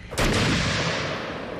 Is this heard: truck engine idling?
no